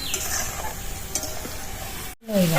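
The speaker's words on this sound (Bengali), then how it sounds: "এইভাবে সব আলু চিপসগুলো ভেজে নেব" Raw potato chips frying in a pan of hot oil, a steady crackling sizzle that drops out briefly before resuming, with clinks of a utensil near the end.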